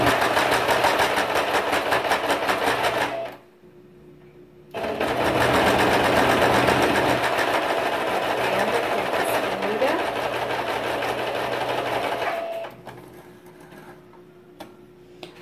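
A sewing machine stitches a double pencil case in rapid, steady runs close by, pausing briefly before resuming and then stopping, with faint handling sounds between runs.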